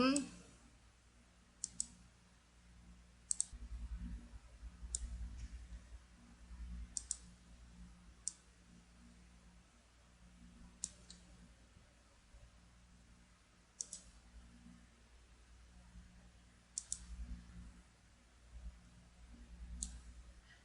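Computer mouse clicking while using the lasso selection tool in drawing software, a scattering of sharp, faint clicks spread through the clip under quiet spoken instruction.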